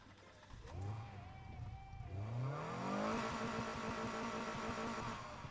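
A stock car engine in the racing game Need for Speed Heat revs up twice in rising sweeps, then holds a loud, sustained high-pitched roar.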